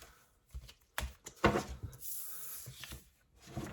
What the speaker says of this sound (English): I usually put them back and continue shuffling.